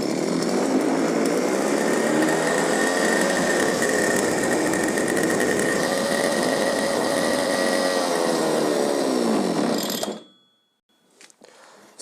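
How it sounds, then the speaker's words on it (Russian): Petrol brush cutter (two-stroke trimmer) runs loud and steady at high revs for about ten seconds, then cuts off abruptly, leaving near silence with a faint rattle at the end. "Так что заводим нашу мотокосу."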